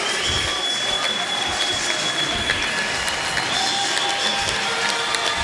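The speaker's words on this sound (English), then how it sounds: "And the Solent fans showing their appreciation." A near-capacity ice hockey crowd at a Streatham Redhawks versus Solent Devils semi-final applauding after the game, with steady, dense clapping throughout and a few scattered cheers underneath.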